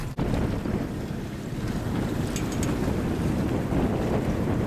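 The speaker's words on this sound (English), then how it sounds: "A solid 20 mile an hour wind." Strong wind of about 20 mph roars steadily across a microphone on an open fishing boat while bait is cast-netted, with water sloshing underneath and faint clinks partway through.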